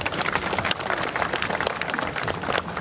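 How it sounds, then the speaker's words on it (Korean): An audience claps continuously after a song at a memorial ceremony, a dense, steady patter of many hands held at an even, moderately loud level throughout. "노래로 연대해주신 송이태 동지와 최승구 동지님께 다시 한번 박수로"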